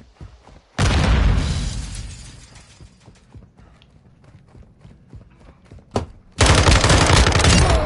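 Shotgun blasts and gunfire in a console shooter: a loud blast opening a decaying burst of fire, a stretch of faint clicks and clatter, then a sharp crack and another loud sustained burst of shooting.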